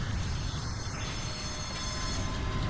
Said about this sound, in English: Monorail has arrived at its destination and the freight has been stored in your private locker.